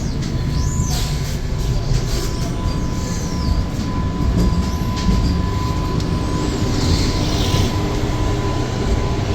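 The Patna–Howrah Vande Bharat Express rolls along with a constant heavy rumble, punctuated by a few high wheel squeals, heard from close by with no talking.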